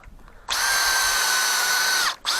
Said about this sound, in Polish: Wiercę to wszystko